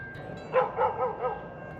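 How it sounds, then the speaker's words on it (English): A dog barks four times in quick succession at a moderate distance, the yips standing out over steady outdoor ambience at a free riverside campsite at the Barwon Reserve in Winchelsea. "And a dog barking."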